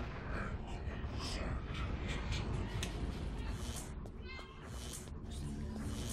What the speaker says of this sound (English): Gear, I really need you to get out of there, please. Be a nice kitty.